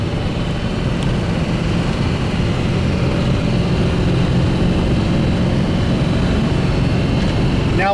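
A 1963 fuel-injected Corvette pulls hard in first gear on a flat road, its engine roaring steadily and loudly with heavy wind and road noise from inside the car.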